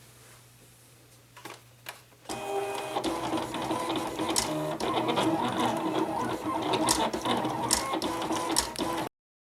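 A Silhouette Cameo cutting machine runs a WRMK Foil Quill job, starting after a few soft clicks and then whirring and chattering steadily, close by, with busy mechanical ticks as the carriage moves.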